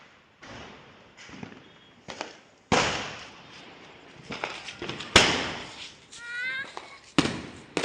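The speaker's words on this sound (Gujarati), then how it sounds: "કેટલી વાર બધી આપી મિર્ચી બોમ્બ ફૂટ્યો હજી એક" Mirchi bomb firecrackers burst during Diwali celebrations, a series of sharp loud bangs separated by short gaps, with people talking and shouting in between.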